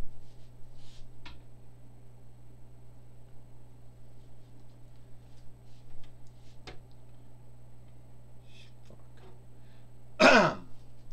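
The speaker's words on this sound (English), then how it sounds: "Sorry for clearing my throat." A single throat clearing near the end, close and sharp, after a long quiet stretch with a faint hum and occasional small ticks.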